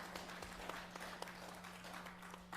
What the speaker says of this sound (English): That was a properly timed applause.